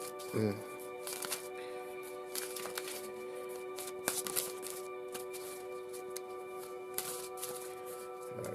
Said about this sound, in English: last minute shuffle